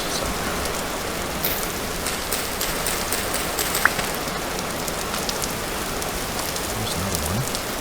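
Heavy rain pours steadily throughout the video game Vintage Story, a dense, even hiss of drops on surfaces with no voices, loud and continuous for the whole stretch.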